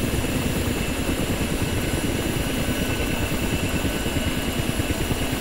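A steady, droning turbine engine whine with a low rumbling roar, constant and loud throughout, as a Ka-50 helicopter engine spools up in the flight simulator DCS.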